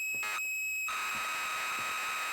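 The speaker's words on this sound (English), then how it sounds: "So this tape sounds like this." A data tape played back inside Metal Gear Solid V gives off a steady high electronic tone with a harsh burst in its first second, then settles into a continuous buzzing whine, alone and without any voices.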